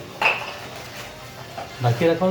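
A metal lid clatters onto a pot of soaking sabudana in a home kitchen, giving a short clink and then scraping knocks, close and fairly loud.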